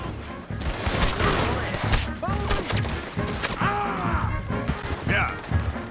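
Heavy gunfire in the video game Red Dead Redemption 2: dense, continuous volleys of shots with sharp cracks and impacts, and character voices shouting over the fighting.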